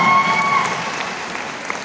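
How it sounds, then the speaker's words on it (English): A burst of audience applause, many hands clapping at once, loud at first and then gradually thinning out. "Give her a big round of applause."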